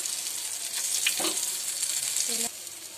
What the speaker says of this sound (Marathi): माझं तेल गरम झालंय, असं एक घुसलून तेलामध्ये सोडणार आहे